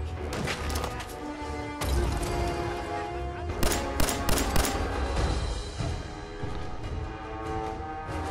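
Video game gunfire from Fallout 4 rings out as a handful of sharp, loud shots clustered in the middle, set against a dense, noisy combat background of rumble and clatter.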